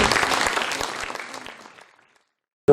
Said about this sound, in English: Can I have a loud round of applause?